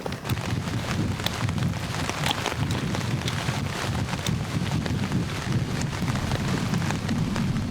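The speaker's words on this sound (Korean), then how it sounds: "다시 진눈깨비가 내리기 시작했어요." Sleet falls outdoors in the mountains, a dense continuous hiss of tiny icy patters with a low rumbling wind buffeting the microphone throughout, steady and fairly loud with no voices.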